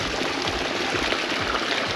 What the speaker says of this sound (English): And this is a little bit of waterfall.